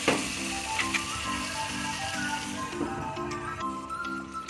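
Tomatoes sauté in a pan for a fish curry with a soft, continuous sizzle and light crackle, heard near and fairly quiet, with an occasional faint tap.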